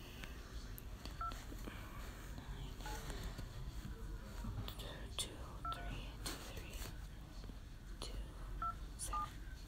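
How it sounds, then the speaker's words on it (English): A telephone keypad on speakerphone sounds short, sharp dialing beeps as a number is redialed. Several quick tones come at uneven intervals, fairly quiet, while a soft voice talks between them. "let's try redialing that because I forgot to put it on speaker"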